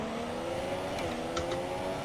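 Race cars in the F1 2017 video game at the Russian Grand Prix, a steady droning engine whine with a brief passing surge and faint tire squeal, close and continuous with no talk.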